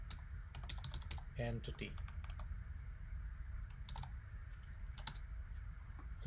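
Rapid clicking keystrokes on a computer keyboard as a search term is typed, a steady run of close taps with someone talking over part of it.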